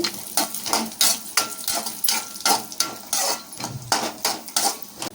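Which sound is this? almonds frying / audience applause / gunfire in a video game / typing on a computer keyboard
almonds frying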